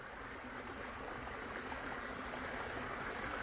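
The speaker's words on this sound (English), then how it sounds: "Listen to the sounds of the waterfall." Waterfall sounds from footage played on a Bluetooth speaker form a faint, steady rushing hiss of falling water, even and unbroken for several seconds, with no voices.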